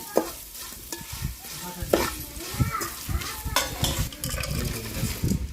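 Bitter gourd fry being stirred with coconut chili powder in a pan, a spoon scraping and clinking against the metal in an irregular rhythm over a steady close sizzle of frying.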